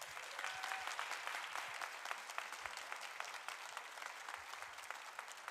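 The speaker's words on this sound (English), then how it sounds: "please give a huge round of applause for Jeremy Mansfield" A crowd claps for Jeremy Mansfield at a Safeguard our Schools event in Sumner County, a continuous round of applause heard at a distance, fairly faint but sustained the whole time.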